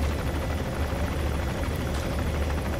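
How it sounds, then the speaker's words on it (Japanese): A helicopter in the video game Metal Gear Solid V drones steadily with a thick, continuous rotor chop, mid-level and unbroken throughout. "ヘリがハエのように落ちるのを眺めるとしよう。"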